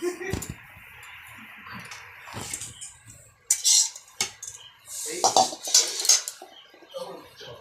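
Metal cooking pot and utensils clatter and scrape in bursts while rice is cooked, with louder clanks toward the end, while people talk nearby.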